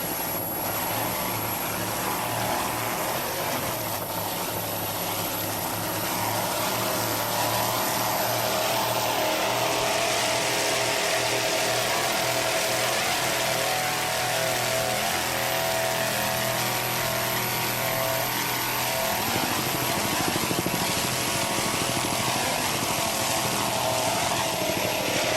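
A racing powerboat engine roars steadily throughout at the 1991 Valvoline Offshore event, a loud, continuous droning drive with a faint shift in pitch as the throttle is worked, no voices over it.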